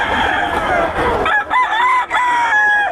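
A white game cock crows loudly and close, a single drawn-out call with rising and falling pitch that fills the whole moment against faint background noise.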